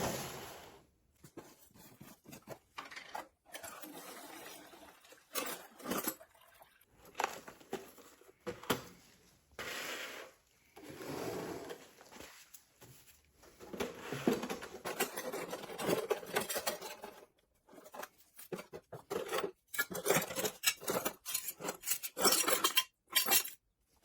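A rusty chainsaw muffler and other metal pieces from a Stihl 025 are lifted out of an Evapo-Rust bath, giving scattered close metallic clinks and clatters with short pauses, with no talking.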